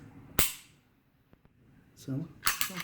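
Several sharp, metallic clicks of a Beretta APX pistol trigger snapping on an empty chamber, one loud and a few fainter, with brief speech nearby.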